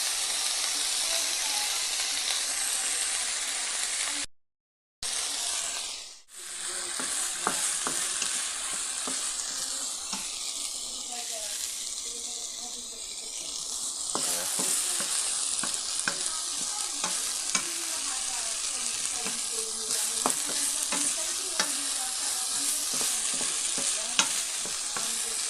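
Onions fry in a pan with a continuous sizzle, and a utensil stirs and scrapes repeatedly against the pan. A brief dropout comes early, then the sizzling and frequent stirring clicks carry on to the end.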